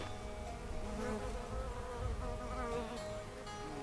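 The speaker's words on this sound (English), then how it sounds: "Oh, we got bumblebees." Bumblebees buzz in the video game Where Angels Cry 2: Tears of the Fallen, a continuous droning hum with wavering pitch that holds at moderate, even loudness throughout, with no talk.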